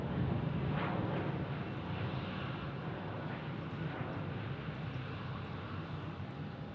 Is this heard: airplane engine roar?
yes